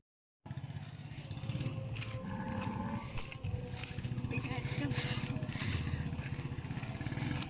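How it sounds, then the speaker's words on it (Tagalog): A motorized tricycle rumbles steadily close by the whole time, its low engine drone loud and continuous while people talk over it. "May tricycle."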